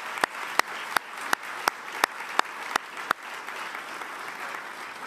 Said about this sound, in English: I'd ask you to join me in a warm round of applause for all of their work